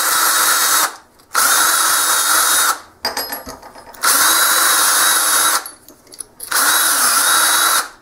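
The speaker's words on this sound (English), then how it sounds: "Chuck it in a cordless. Now you can clean your fittings real fast." Cordless drill spinning a wire brush to clean plumbing fittings, loud whirring bursts in three runs separated by short pauses and a brief rattling in between, close up with no talking.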